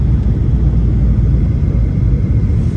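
Ethiopian Airlines Boeing 737-800 on approach to land at Entebbe International Airport beside Lake Victoria, heard as a steady, loud low rumble of engine and airflow throughout, with no talk.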